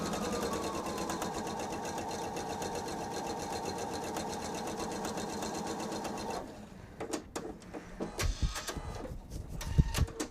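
A sewing machine stitches triangle fabric pieces for a seasonal bench pillow, running in a steady loud whir for several seconds, then stopping, followed by close clunks and handling noises of the fabric.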